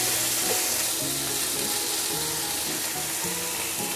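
Ground pork or beef fries in a pan for ginisang giniling, a constant close sizzle with rhythmic scraping strokes of stirring, no voices.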